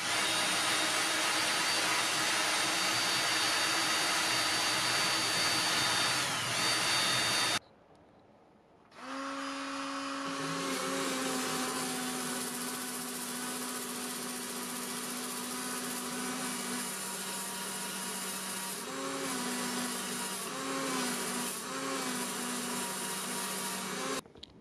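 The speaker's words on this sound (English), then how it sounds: "I'm going to put the file on here and use the drill to spin it" Power drill spinning a file to smooth a homemade alligator-hunting harpoon part, a loud steady whine that cuts out briefly, then restarts and runs on with shifting pitch as the file works the metal.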